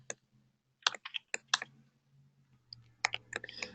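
Keys clatter on a computer keyboard during a web-server setup, irregular clusters of quick clicks separated by short pauses, close and fairly soft.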